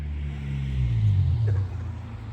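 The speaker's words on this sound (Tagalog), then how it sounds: "May sasakyan guys, oh." A car passes by at night with a low rumble that swells to a peak around the middle and then fades, heard fairly close and alone.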